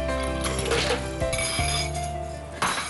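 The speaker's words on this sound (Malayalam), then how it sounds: "ഇനി ഇതിലേക്ക് കുറച്ച് ഐസ് ക്യൂബ്സ് ഇടാം" Ice cubes tumble into a pulpy mango and cucumber mixture in a kitchen, making a few close, sharp clinks and knocks against the vessel.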